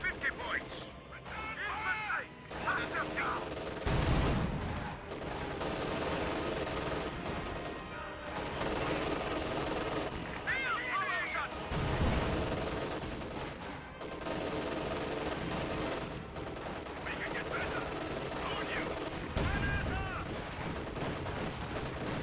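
Gunfire from infantry squads in a WWII strategy game, Volksgrenadiers with Jaeger light infantry firing from range, comes as dense overlapping bursts and volleys with heavier impacts, running continuously under game voices and narration.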